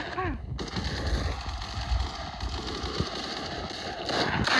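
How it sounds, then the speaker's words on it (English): Gunfire in the video game Counter-Strike, a dense sustained burst of shots over a noisy game backdrop, with a brief tonal chirp at the start and a sharp crack near the end. "I'm about to shoot"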